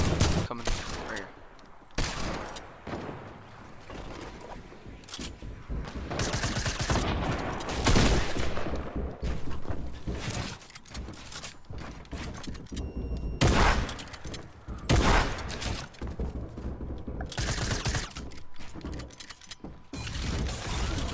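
Automated turret fire in a Fortnite arena match: dense, continuous bursts of rapid gunfire with mechanical clatter, loud and sustained throughout with brief dips between volleys.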